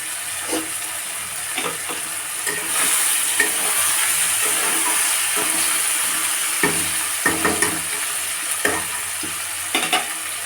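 Ginger garlic paste and chicken fry under a steady sizzle while a spoon stirs, scraping and knocking the pan in irregular bursts, with no voices.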